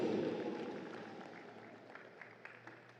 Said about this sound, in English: Let's give a big round of applause to Team Papua New Guinea.